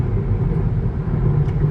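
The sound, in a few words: Hyundai Ioniq 6 cabin road noise, high speed on ribbed concrete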